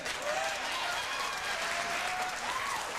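Studio audience at a late-night talk show breaks into sustained applause, dense and loud clapping throughout, with a few faint voices among the crowd.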